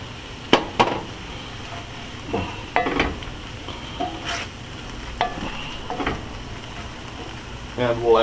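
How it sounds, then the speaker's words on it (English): Spicy squid stir-fry being stirred in a pan, with scattered clinks and scrapes of a utensil against metal over a soft background sizzle, the sharp hits spaced irregularly and close by. "Give this a little bit of a mix."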